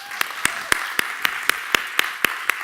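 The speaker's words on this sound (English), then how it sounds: "how about a round of applause for this group?" Slow, evenly spaced single claps, about ten sharp hits at a steady beat, from a conference audience applauding a panel of speakers, fairly close and alone without talk.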